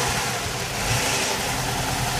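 A Chrysler/Dodge 2.7 or 3.5 V6 with its idle air controller pulled idles roughly, a steady close engine drone with an uneven, surging low throb and no talk.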